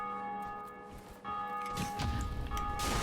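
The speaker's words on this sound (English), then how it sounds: "that's actually the Bell of Awakening going off right now" The Bell of Awakening in the video game Dark Souls tolling, a resonant ringing whose sustained tones swell louder toward the end over a low game background.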